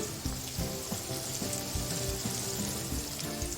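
Onions, green chillies, cumin, mustard seeds, asafoetida and urad dal fry in hot oil in a pan, giving a loud, dense, continuous sizzle with crackles and pops and no talking.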